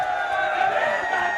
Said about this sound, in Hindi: शहीद स्मारक के मेरे पीछे जो भीड़ देख पा रहे हैं